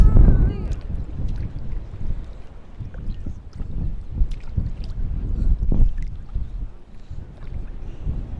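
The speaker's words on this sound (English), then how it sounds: "Aruba is known as a windy place, and today it's really windy." Gusty wind at a beach in Aruba buffets the microphone in low rumbling bursts, with faint water and scattered brief sounds in the background.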